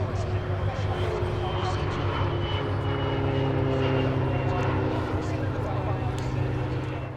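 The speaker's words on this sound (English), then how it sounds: "a rather more unusual flying display participant was this Pilatus PC-6 from the Jungle Aviation and Radio Service" A Pilatus PC-6 turboprop performs a flying display at EAA AirVenture Oshkosh 2023, its engine droning steadily and fairly loud throughout, with a voice speaking over it.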